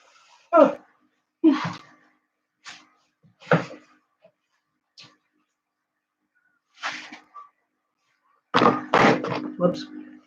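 A broken, already-damaged household door being handled indoors, with a series of sharp knocks and clattering thuds as pieces break off, ending in a quick burst of several clunks close by.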